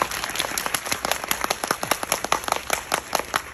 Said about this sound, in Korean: 네, 박수 부탁드립니다.